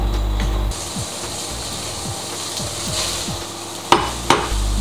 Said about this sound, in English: Stir fry the cut tofu over medium heat.